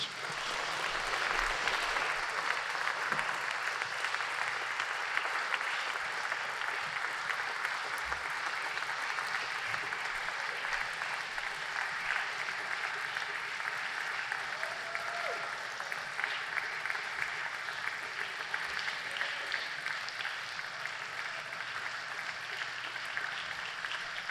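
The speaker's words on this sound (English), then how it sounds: "Let's keep clapping while they join us on the stage." Sustained audience applause at a venture showcase as presenting teams walk onto the stage, a dense, even roar of clapping holding steady for over twenty seconds with only faint murmurs underneath.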